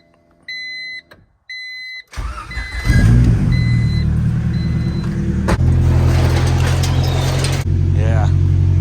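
A car engine is started after a few electronic beeps, then idles and warms up steadily at close range for several seconds, with a brief bump in the sound partway through.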